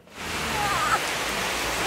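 Heavy rain pours down steadily in a dense, constant hiss that starts abruptly and stays loud and even throughout, with no voices over it.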